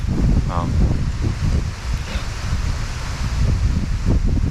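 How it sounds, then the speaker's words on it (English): Strong wind buffets the microphone at a kayak campsite, a loud low rumbling roar that gusts and surges continuously, close up and with no talking. "The wind is going to be in my face all day"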